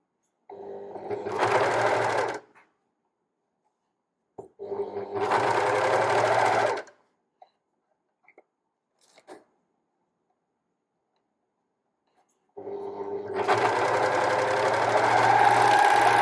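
A serger sews binding onto cami straps in three loud, close bursts of rapid mechanical chattering, each lasting a few seconds and separated by near silence.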